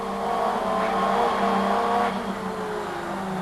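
A Ford Sierra RS500 Cosworth Group A race car drives at speed, its engine a loud, sustained buzzing drone that swells slightly and then eases, with no voices.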